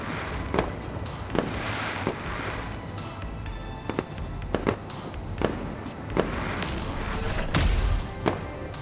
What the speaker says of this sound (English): It has a fireworks launcher.